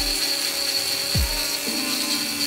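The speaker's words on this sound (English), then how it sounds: "we can just clean up the edges with a Dremel. I used some tungsten carbide burrs just to rough out the shape." A Dremel rotary tool fitted with tungsten carbide burrs shaping wood, a steady high-pitched whine that runs close and loud throughout, with a brief pitch dip as the burr bites in.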